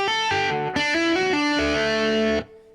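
Electric guitar plays the first tapping section of a song with effects, open low strings followed by hammered-on notes in a quick phrase that rings loud and close, then stops abruptly.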